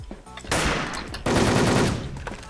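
Automatic gunfire from the Wolfteam video game comes as a loud, dense burst lasting about two seconds with a brief dip in the middle, and no talk over it.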